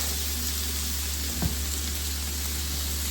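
Onions sizzle steadily in hot oil in a pan while fajitas cook, a dense continuous frying hiss with a brief soft knock partway through and no talking.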